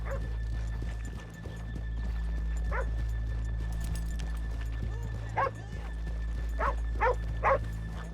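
In the video game Red Dead Redemption 2, several sharp yips and barks come over a low steady engine-like hum, with occasional faint clopping of horse hooves in the background.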